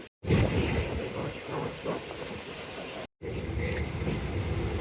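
Jaffer Express passenger train rolling toward Multan Cantt station, a steady loud rumble of wheels and carriages with a brief cut partway, heard from on board.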